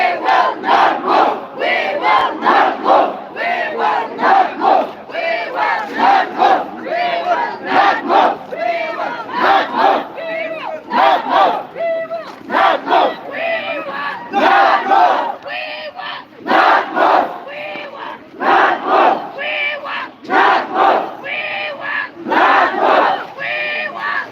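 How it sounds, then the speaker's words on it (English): Protest crowd of students chanting a short repeated slogan in rhythmic bursts, loud and close, the chant cycling steadily with brief pauses between phrases. "You can hear the crowd chanting, "We will not move. We will not move.""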